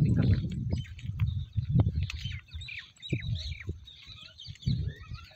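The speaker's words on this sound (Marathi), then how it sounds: "हे बघा रानात मोर." Peafowl calling out in wild scrubland near a riverside ashram, with sharp bird calls and chirps rising over loud low rustling and handling noise; a voice murmurs now and then.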